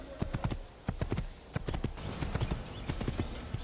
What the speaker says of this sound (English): Good thing the horse is a fast runner.